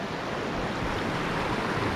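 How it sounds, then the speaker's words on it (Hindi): Glacial meltwater stream pours down from a glacier in the Harsil Valley, a steady dense rushing wash heard close and continuous. "ग्लेशियर के अंदर से ये जो पानी है गदेरे का वो आ रहा है, साथ में बर्फ़ भी पिघल के आ रही है।"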